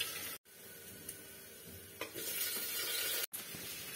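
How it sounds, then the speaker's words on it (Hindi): Mixed vegetables and tomato fry in a pan with cumin, mustard seeds and onion for khichdi, a faint but steady sizzle with stirring scrapes, broken by two abrupt brief silences. "जीरा सरसों और प्याज उवाज भून लिया था, अब मैं इसमें सब्जी डाल रही हूँ और साथ में टमाटर भी डाल रही हूँ"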